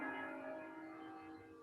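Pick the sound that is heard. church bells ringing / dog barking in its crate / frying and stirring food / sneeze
church bells ringing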